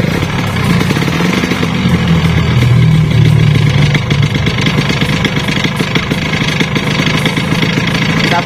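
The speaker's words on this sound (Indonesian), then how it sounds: "hidupin mesinnya." A Yamaha RS 100 motorcycle engine with a clogged two-stroke oil line runs steadily nearby, idling with a loud, even rumble and a slight rise in revs early on.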